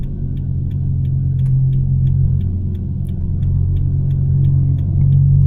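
A car drives slowly through a parking lot, its low engine rumble steady and close throughout, with faint regular ticking on top and no speech.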